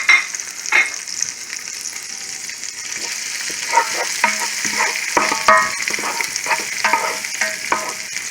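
Sautéed onions and garlic sizzling in a pan for candy bacon breakfast fried rice, steady frying hiss broken by repeated scraping stirs close up.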